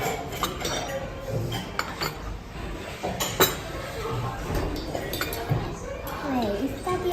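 A spoon and other cutlery clink against dishes in scattered light taps, mixed in with people talking nearby.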